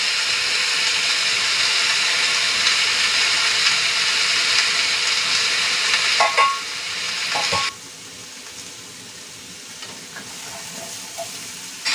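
Braised pork trotter with dried bamboo shoots, rock sugar and black peppercorns is stirred in a pot, with a steady loud sizzle and hiss. A few scraping knocks come partway through, then the cooking noise drops to a quieter simmer.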